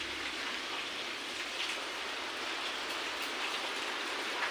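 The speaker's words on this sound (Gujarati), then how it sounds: "વરસાદ ચાલુ થઈ ગયો" Steady rain pouring onto an open terrace during a sudden downpour, a dense, even hiss of drops that holds constant throughout with no voices.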